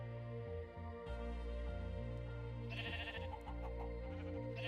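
Minecraft sheep bleating in a farm pen, several wavering, nasal baas overlapping one after another, close and clear over a faint game background.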